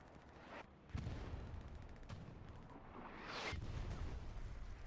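Artillery fire in Hell Let Loose, heard as a few faint, distant booms and cracks spaced over a low battlefield rumble, quiet overall with no talk.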